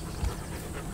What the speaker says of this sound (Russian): Вот он, собака.